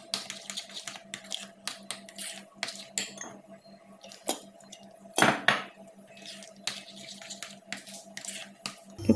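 Idli batter is mixed in a bowl as water goes in, heard as a steady run of quick, close clinks and scrapes of a utensil against the vessel, with a louder knock midway and no voices.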